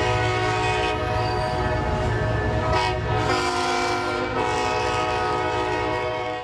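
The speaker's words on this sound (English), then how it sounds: "train horns are once again going to be blaring through downtown San Diego" Loud train horns blare in long, sustained chords over the rumble and clatter of a passing train in downtown San Diego.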